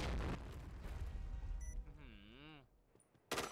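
A grenade blast in the shooter game Point Blank during a Thai pro league match, a loud booming burst at the start followed by game effects and a warbling tone, with commentators talking throughout.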